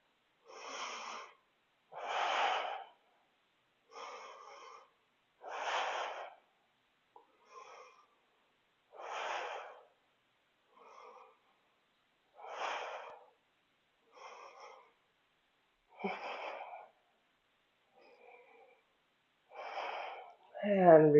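Deep breaths during a yoga pose come as a slow series of about a dozen breathy inhales and exhales spaced by silent gaps, close and fairly soft.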